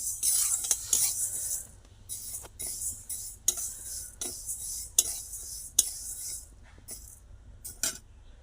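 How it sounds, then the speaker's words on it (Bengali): Mung dal is stirred in a kadai with a metal spoon, giving repeated sharp scraping clinks against the pan at an uneven rhythm over a faint background hiss. "তো ভালো করে ডালটা আমি একটু ভেজে নিচ্ছি কড়াইয়ে দিয়ে মুগের ডাল"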